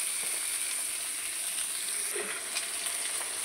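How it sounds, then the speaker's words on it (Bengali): Sliced potatoes and chopped onion frying in hot oil in a home kitchen, a steady soft sizzle and hiss running throughout with a few faint stirring clicks, close and moderately quiet. "দুটো আলু কেটে নিয়েছি, নিয়ে ওটাই মানে তেলের মধ্যে দিয়ে দিচ্ছি, দিয়ে লাল লাল করে ভেজে নেব।"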